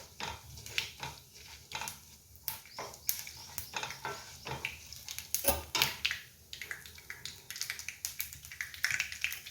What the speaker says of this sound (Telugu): ఆవాలు చిట్టపట అనాలి.